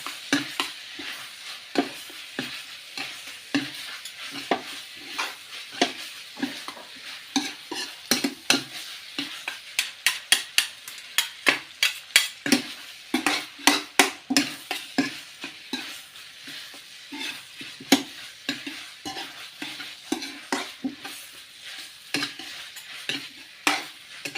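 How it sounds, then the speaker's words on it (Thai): Minced pork with red chili and southern Thai curry paste is stir-fried in a pan for khua kling, with continuous sizzling under a steady run of sharp spatula scrapes and taps against the pan, loud and close, without talk. "แล้วก็ผัดให้เข้ากันอีกครั้งนะครับ เป็นครั้งสุดท้ายเนาะก่อนที่เราจะปิดเตานะครับ"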